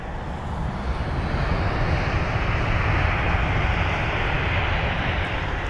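A Lufthansa Cityline Airbus A320neo arriving from Munich at London Heathrow makes a steady, broad jet-engine roar that stays loud and even throughout, with no voices over it.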